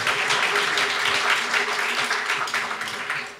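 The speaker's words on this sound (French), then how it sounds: "On peut applaudir Élise Goldberg, mesdames et messieurs." An audience claps for Élise Goldberg at a French stage performance, producing a dense, loud, even wave of applause that starts full and tapers slightly toward the end.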